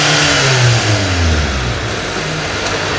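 A petrol car engine revving as it is accelerated, a close, loud rising and falling mid-pitched roar that settles toward idle.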